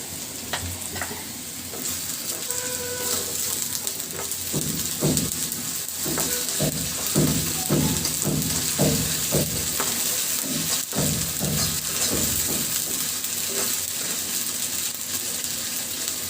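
Sliced green chillies hit hot oil in a pan beside garlic and sizzle loudly and continuously, with a run of rhythmic stirring scrapes through the middle.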